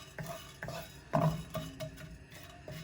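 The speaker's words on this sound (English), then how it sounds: "So let it toast a little bit with a little bit oil in it" Peppercorns toasting in a little oil for vegan mapo tofu, with soft stirring scrapes and a few light utensil clinks against the pan, quiet and close, with no voices.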